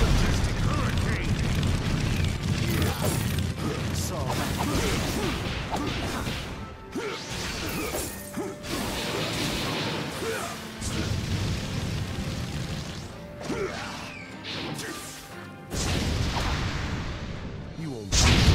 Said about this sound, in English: Fire style, majestic hurricane.